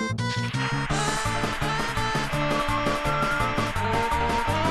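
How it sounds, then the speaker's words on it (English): Dense slide theme music from B3313, a Super Mario 64 hack, playing continuously at steady volume with a bouncy bass line and bright layered melody, with no talking over it. "Why does this slide theme sound like this?"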